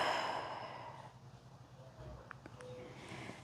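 A deep, slow exhale during a yoga breathing exercise in a beginner lower-back session, a soft breathy sigh at the start that fades into quiet room tone.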